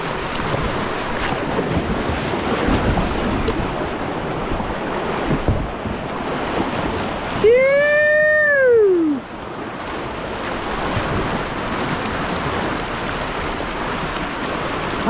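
Rushing river water roars steadily at a surf wave on Wilson Creek during a paddling run, a loud broadband wash with a brief rising-and-falling whistling tone cutting through near the middle.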